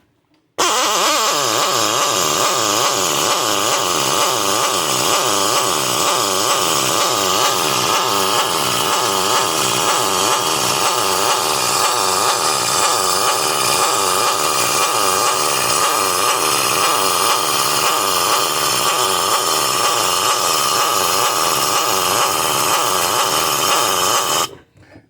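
A pneumatic air drill fitted with a socket runs continuously at high speed for over twenty seconds, a loud steady whine with a pulsing rhythm, starting and stopping abruptly.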